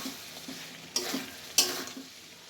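Steamed cauliflower stirred and sautéed in a pan, a low steady sizzle punctuated by two sharp metallic scrapes of a spatula against the pan, near and moderately loud, with no talk.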